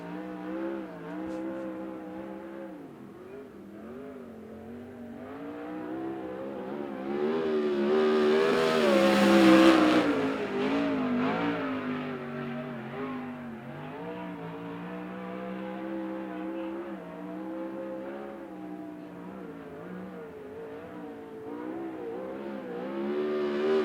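A USAC race car on a qualifying lap at Central Arizona Speedway, its engine droning steadily around the track, swelling loudest as it passes near the midpoint, then fading to a sustained distant roar.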